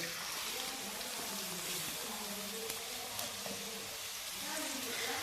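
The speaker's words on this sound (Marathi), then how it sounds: "आता मी त्यामध्ये बारीक चिरलेला कांदा टाकते" Finely chopped onion hits about three to four spoons of hot oil in a kadhai for pav bhaji, giving a steady, even sizzle and hiss that carries on without break.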